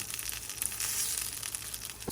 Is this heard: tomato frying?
yes